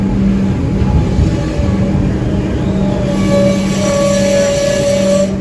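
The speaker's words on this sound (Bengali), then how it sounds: "ট্রেনের জন্য অপেক্ষা করছি" A train pulling into a Melbourne city station, a loud close rumble of rolling wagons with sustained metallic squealing tones rising from the wheels as it slows, no talking over it.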